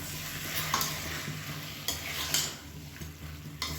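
Onion masala sizzles and fries in a pan while a spoon stirs it, with steady close-up frying hiss and intermittent scraping strokes against the pan.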